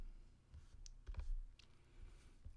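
A few sharp computer mouse clicks while saving a file in Maya, close and quiet, spaced over a couple of seconds against a soft room hiss.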